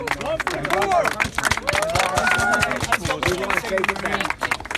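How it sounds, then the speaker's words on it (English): Crowd applauding a Marine at a patriotic flag rally, a dense wash of many hands clapping at close range with babble and shouts mixed in, steady throughout. "Give that man a round of applause"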